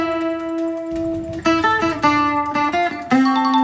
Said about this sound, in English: Guitar.